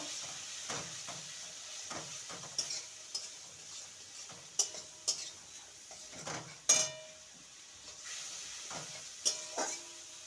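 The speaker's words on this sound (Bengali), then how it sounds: "কোয়াটার স্পুন জিরে গুঁড়ো আর কোয়াটার স্পুন ধরে গুঁড়ো ভালো করে মশলাটাকে কষিয়ে নেব" Cumin and coriander powder masala with turmeric frying in oil in a pan for a bottle gourd and chickpea dish, heard as a faint sizzle broken by scattered sharp clinks and scrapes of a spoon stirring against the pan.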